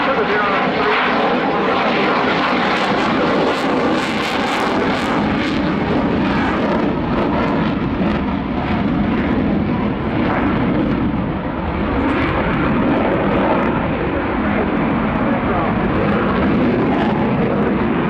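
A Swiss Air Force F/A-18 Hornet jet flies an airshow display, its engine roar loud and continuous throughout, with a commentator talking over the noise.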